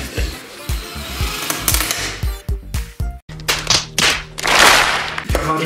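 A drill bores through plastic while building a homemade ice bazooka, heard as a series of sharp whirring bursts and cracks, close and loud, with short pauses between passes.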